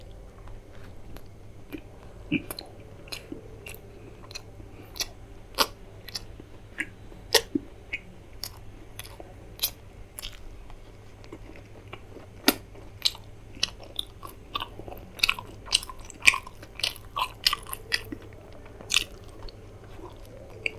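Close, crisp bites and chewing of roasted alfam chicken leg with paratha and gravy at a mukbang meal, with irregular crunchy snaps and wet chewing over about twenty seconds and no talking.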